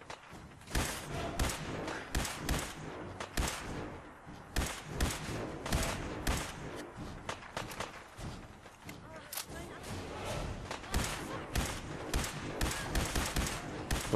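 Repeated bursts of rapid gunfire and sharp shots crackle through a chaotic battle in the video game Fallout 4, with thumps and a voice speaking intermittently underneath.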